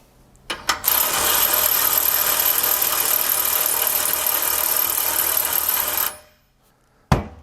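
A Snap-on CTR762 'Brute' electric ratchet runs flat out for about five seconds, a loud close whirring drone that starts and stops abruptly, followed by a single sharp click.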